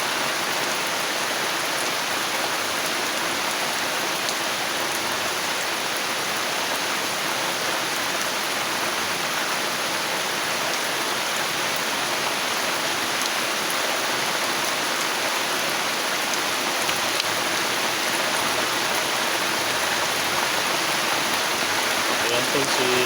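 Heavy rain pours steadily onto the roof of a hut, a dense continuous hiss without letup, with faint voices now and then underneath.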